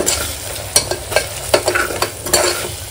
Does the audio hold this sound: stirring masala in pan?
yes